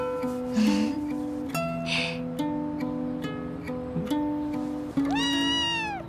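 A rescued kitten meows several times, with high, clear cries spread across the moment, over soft gentle background music.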